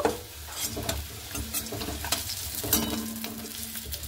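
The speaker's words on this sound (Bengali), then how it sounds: "আলুগুলোকে কিন্তু আমি লাল লাল করে ভেজে নিয়েছি।" Potatoes fry in a pan, with a close, continuous crackling sizzle broken by stirring scrapes and a few louder pops.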